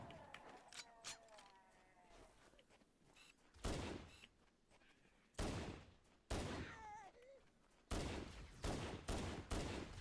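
Bursts of gunfire in a video game shooter, rapid volleys in several separate bursts, loud and close, with a voice speaking faintly between them.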